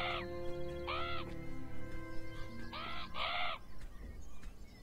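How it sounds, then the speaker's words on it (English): Crows caw in the video game Beyond Eyes, a few harsh rasping calls in pairs and short bursts over a steady ambient game background, moderately loud with no speech. "Let's get away from those crows."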